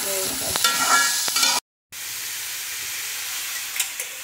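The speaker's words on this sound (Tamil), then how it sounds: "தக்காளி கொஞ்சம் வதக்கணும்." Tomatoes sautéing in hot oil for a poori kurma, a steady broadband sizzle with stirring scrapes, cut by a short gap of silence before the frying hiss resumes more quietly.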